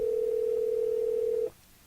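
A steady single-pitched tone from a phone call placed through a Nulaxy KM22 Bluetooth FM transmitter in a car holds evenly for about a second and a half, then cuts off abruptly, leaving low road hum.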